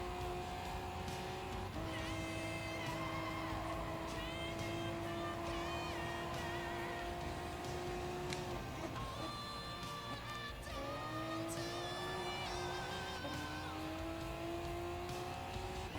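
A race car engine in Gran Turismo Sport whines steadily at high revs, shifting pitch through gear changes and braking, with occasional tire squeal, loud and constant throughout.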